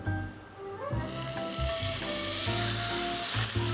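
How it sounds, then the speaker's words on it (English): Lamb neck seared in a hot pan over a fire, with vinegar in the mix, gives a loud, steady sizzle and crackle that swells as the meat hits the pan, close-up and continuous, with no talking. "Okay, we're gonna try to get a nice sear on it."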